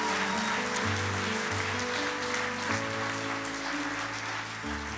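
Audience applause fills a church, steady, dense clapping sustained throughout, with sustained keyboard or organ chords playing underneath.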